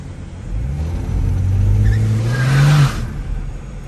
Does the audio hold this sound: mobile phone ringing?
no